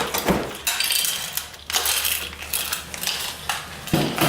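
Metal nuts and bolts rattling and clinking in a pack as it is handled while a Vastex D100 infrared conveyor dryer is unboxed, with several short clattering bursts, close and fairly loud.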